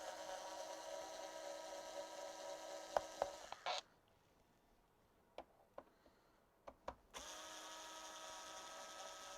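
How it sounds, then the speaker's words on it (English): A cordless screwdriver removes large screws from an Electrolux 502 vacuum cleaner, a steady whirring drive broken by a pause full of small clicks and ratchet ticks, then the whir resumes, close and fairly quiet. "So I'll take out these very big screws."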